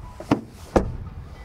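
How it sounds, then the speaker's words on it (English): BMW 2 Series Active Tourer car door closing, a two-part sound with a soft first thump followed by a firmer, heavier thud about half a second later, close up and with no talking. "Then door closing"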